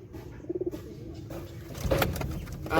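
Domestic pigeons kept for flying coo softly in a short rhythmic burst, followed by faint rustling and background noise at a modest distance.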